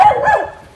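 A single dog bark from a neighbor's dog, fairly loud and close, fading over under a second with no talk.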